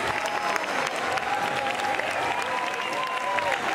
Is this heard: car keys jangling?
no